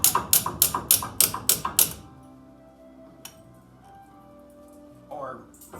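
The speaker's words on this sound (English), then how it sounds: "Use your hammer." Seven sharp metallic hammer strikes in quick succession tap the brake caliper slide pins into place on a 1992 Chevrolet Silverado during a brake replacement, then the clip drops to a quiet workshop hum with a clink and a brief shuffle.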